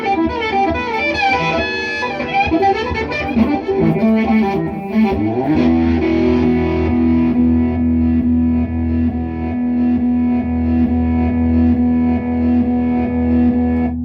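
Distorted electric guitar through a Danelectro reverse delay effect, notes swelling in backwards with no picked attack, then settling into a long sustained drone.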